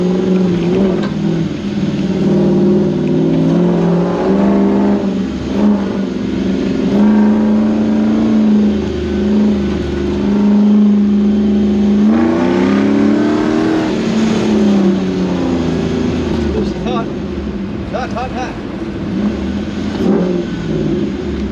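A 1UZ VVTi V8 engine in a Toyota Land Cruiser bush truck with a manual gearbox and a fault dropping four cylinders, droning steadily while driving, its pitch rising and falling as it revs and changes gear, loud and continuous.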